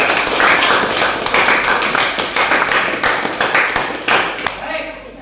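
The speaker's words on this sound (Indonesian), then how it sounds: "Ya, tepuk tangan untuk." Students in a classroom clap together in a brisk, loud burst of applause that fades near the end, with voices mixed in under the clapping.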